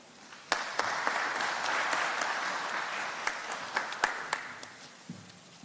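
A conference audience at a UNDP energy conference applauds, a sustained, fairly distant wash of clapping with a few sharper, closer claps standing out near the end.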